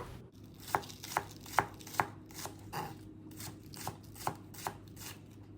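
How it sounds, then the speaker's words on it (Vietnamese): Knife chopping onion and scallions on a board, about ten crisp, evenly spaced cuts, close and fairly quiet against a faint steady hum, with no talking. "cắt hành tây và hành lá cho vào bún nữa"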